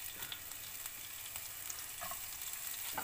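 Chopped onion fries in a little cooking oil in a pan for a stuffed chicken paratha, a steady close sizzle that carries on without a break.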